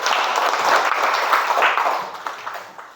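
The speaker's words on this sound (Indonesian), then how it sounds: "Terima kasih, tepuk tangan dulu." Classroom of students clapping together, a dense burst of hand claps filling the room before thinning out toward the end.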